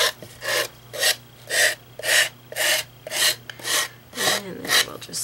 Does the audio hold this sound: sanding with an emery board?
yes